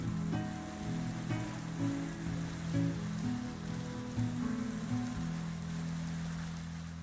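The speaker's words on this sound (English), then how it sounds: "Is the rain loud for you guys?" Steady rain patters and hisses continuously on a surface, fairly loud and close, with a low rumbling undertone throughout.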